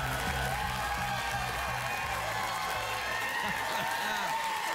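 Late-night television studio audience applauding and cheering, a continuous wash of clapping and crowd noise with voices mixed in.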